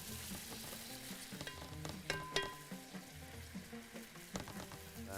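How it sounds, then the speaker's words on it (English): Onion and garlic frying in a pan for Bahraini thereed, a continuous close crackling sizzle broken by occasional spoon scrapes as they are stirred, fairly quiet overall, with no voices. "Keep stirring it."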